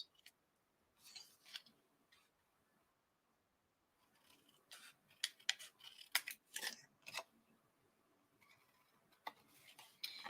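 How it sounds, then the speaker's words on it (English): Scissors snip the corners of a paper pocket for a December Daily page, producing short, close, crisp cutting clicks in small clusters separated by quiet pauses. "let's go ahead and miter the corners of our pocket"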